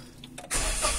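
A car engine cranks briefly after a couple of faint clicks, then catches and roars loudly into a running rumble, close by.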